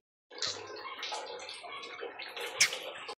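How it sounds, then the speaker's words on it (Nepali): Water runs into a container at a rural village water point, a steady close splashing rush with faint clinks and drips, continuous for about three seconds with no talking. "पानी भर्छौँ एकछिन बस्नुपर्छ यहीँनेरि"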